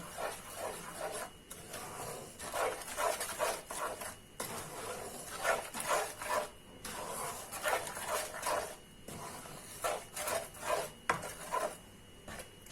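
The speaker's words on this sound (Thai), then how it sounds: "ก็คือจะใช้เป็นเต้าเจี้ยว แล้วก็เอามาผัดเคี่ยวอย่างนี้" Fermented soybean paste is stir-fried and simmered in a pan, giving repeated scraping and rasping strokes of a utensil against the pan in a steady rhythm, moderately close with a faint sizzle beneath.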